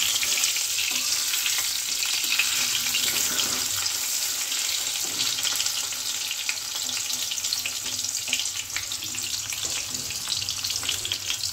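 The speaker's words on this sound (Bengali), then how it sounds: "এবার এটা করে লো টু মিডিয়াম ফ্লেমে কিন্তু আলুটাকে ভাজতে হবে।" Potato pieces for a chicken curry frying in a pan over a low-to-medium flame, giving a dense, continuous sizzle that stays steady and fairly loud without pause.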